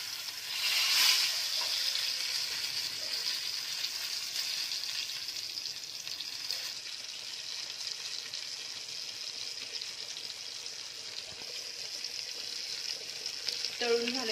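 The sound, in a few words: pomfret fish frying in oil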